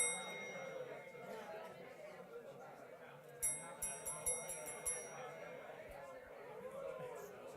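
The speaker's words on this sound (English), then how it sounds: "I like the bell" A small bell rings a few times in quick succession during a break at a talk event, clear bright dings over a background of room chatter and people talking.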